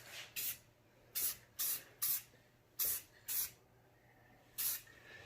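Spray paint can hissing out a coat onto a DIY Boba Fett helmet stand, seven short bursts close up with quiet gaps between them.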